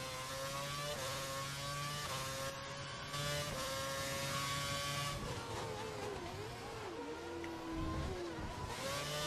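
A Formula 1 car engine in the racing game F1 2011 holds a steady high whine, rising in pitch as it climbs through the gears, then dips and swoops near the end, heard continuously and fairly loud.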